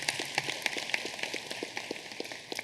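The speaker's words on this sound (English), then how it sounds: "You can clap, it's okay." A convocation audience claps in a steady patter of many hands, moderately loud and slightly distant, with no voices over it.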